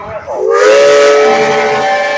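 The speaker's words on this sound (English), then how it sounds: "Engineers, count down for new whistle." Steam engine whistle blows loud and close, starting abruptly after a brief hiss and holding a steady, piercing tone to the end, alone without talk.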